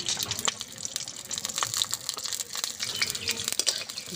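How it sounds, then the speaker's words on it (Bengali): Mustard oil poured into a hot kadai with slit green chilies, a soft, continuous liquid splash and light crackle heard up close and fairly faint, with no voices. "দিয়ে দেবো সরষের তেল।"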